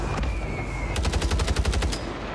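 A rapid burst of automatic gunfire in a battle royale match on Rebirth Island, about a dozen sharp, evenly spaced shots fired close and loud.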